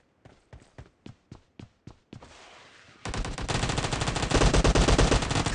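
Micro UZI gunfire in PUBG: about seven sharp single shots spaced evenly, then a sustained, loud, rapid automatic burst that rattles on continuously to the end.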